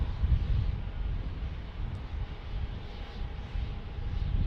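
A Flexjet business jet at Dallas Love Field, heard as a steady, fairly faint jet engine roar with broad rushing noise and light wind buffeting, without talk.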